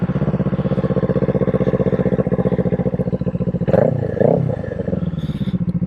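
A Kawasaki Eliminator motorcycle engine with an aftermarket exhaust idles with a deep, rhythmic throaty pulse, then briefly revs twice before settling back to a steady burble.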